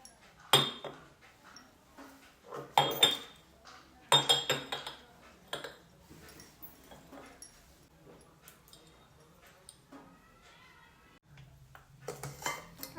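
New ceramic plates and cups clink and knock as they are handled and set down, several sharp clattering bursts with quiet gaps between, fairly close, with faint background noise.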